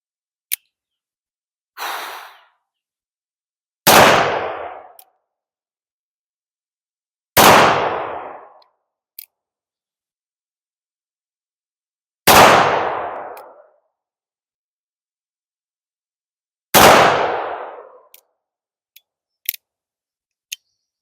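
Five sharp, loud revolver shots fired at a target during a shooting-stance drill, each a single crack with a short ringing decay, spaced a few seconds apart with faint clicks between.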